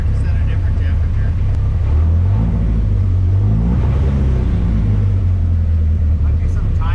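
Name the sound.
car engine revving and sputtering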